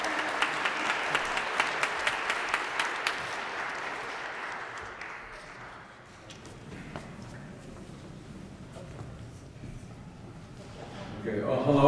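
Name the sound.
audience applause for panelists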